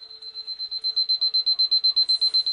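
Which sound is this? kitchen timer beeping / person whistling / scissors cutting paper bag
kitchen timer beeping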